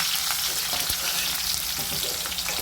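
Chopped onion and curry leaves sizzle and crackle in hot oil with cumin and mustard seeds, the base for a North Karnataka brinjal palya. The frying is loud and close, with stirring clicks and pops over a steady hiss.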